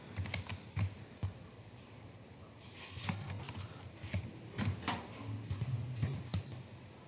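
A password is typed on a computer keyboard, with soft, uneven key clicks coming in short bursts and pauses. The clicks sound close but quiet, and no one speaks.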